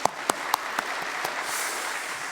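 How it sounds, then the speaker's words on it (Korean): Church congregation claps in praise to God during a Wednesday service, a few distinct claps at the start blending into a soft, fading round of applause. "하나님께 영광과 감사의 박수 올려드리겠습니다"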